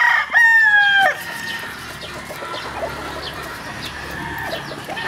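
Shelton Roundhead gamecock rooster giving one loud, close crow near the start, followed by softer clucks and other fowl calls in the background.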